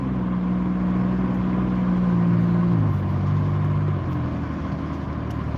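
Steady traffic roar on a main road heard from inside a moving car, with a continuous engine rumble and passing vehicles whose low tones slide downward, loud and unbroken throughout.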